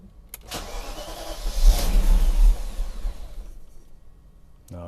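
A BMW 530i V8 engine cranks and catches, roaring up loud and rough for a couple of seconds before settling toward a lower idle, followed by a brief rattling hum.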